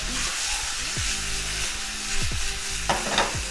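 Meat for lomo saltado sizzles loudly in a light pan being tossed over the heat, a dense and steady hiss with occasional metallic clanks and shifts as the pan is jumped.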